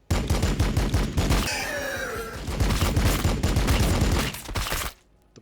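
Dense bursts of gunfire in a Warhammer 40,000 battle game between Blood Angels and Tyranids, rapid loud shots with a screeching alien cry in the middle, then an abrupt cutoff near the end.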